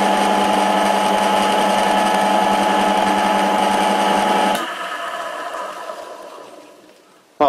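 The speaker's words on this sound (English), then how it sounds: "this will be the first time I'm gonna spin the spindle" Antique Karger lathe spindle spinning up for its first test after restoration, a steady loud mechanical whir with a constant tone that suddenly drops partway through and fades as the spindle coasts down, ending with a sharp knock.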